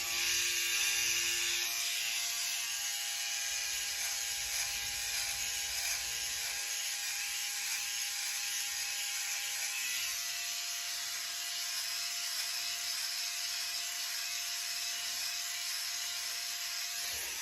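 Philips OneBlade electric trimmer cutting a beard, a faint, steady high-pitched motor whir with a soft buzzing edge that continues without pause.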